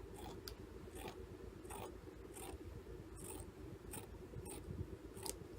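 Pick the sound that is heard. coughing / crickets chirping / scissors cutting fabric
scissors cutting fabric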